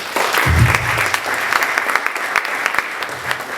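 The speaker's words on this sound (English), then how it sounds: "let's give another round of applause for our three speakers" Applause from an audience at a police community forum held in a church, a steady wash of many hands clapping for a few seconds that thins toward the end.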